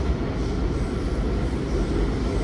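Onboard a WMATA Silver Line 7000-Series metro train riding from L'Enfant Plaza: a steady, loud low rumble of wheels and motors, with continuous roar and no speech.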